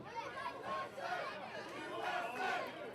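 A wrestling crowd at an NWA WildKat show, a dense roar of cheering and chanting voices that swells and ebbs, heard up close as a steady mass of sound.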